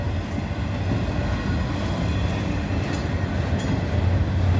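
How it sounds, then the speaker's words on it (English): Long, slow freight train rolling through Abbeville, South Carolina, a steady loud rumble and rattle of cars passing close by without letup. "It is a big, long train."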